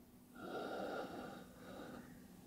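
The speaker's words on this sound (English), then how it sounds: "long, gentle exhales through the mouth" A long, gentle breath pushed out through the mouth, a soft airy hiss that swells and then slowly fades over about two seconds, close and quiet with no talking.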